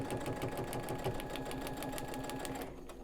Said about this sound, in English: I'm going to be sewing right along the center of the line.